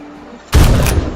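A single loud, close gunshot blast in the video game Zombie Rush, firing a headshot at a zombie, sharp onset followed by a brief decaying tail.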